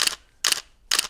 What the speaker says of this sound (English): the shutter clicks